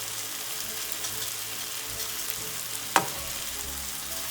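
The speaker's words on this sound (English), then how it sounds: "Give it a nice stir" Onions and tomatoes cook with chili powder, coriander powder and salt in a frying pan for a spinach and tofu curry, giving a soft steady sizzle with one sharp scrape or knock of a utensil near the end.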